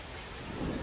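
Rain pours steadily over a minor-league baseball stadium during a Missions versus Hooks game, a dense, even hiss of falling water that swells slightly toward the end, with no voices.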